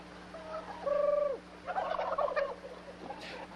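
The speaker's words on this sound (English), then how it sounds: "Damn, look at those turkeys." Turkeys gobbling in a rapid, rattling burst, a loud close call around the middle followed by a second, busier volley of overlapping gobbles, with a low steady hum running underneath.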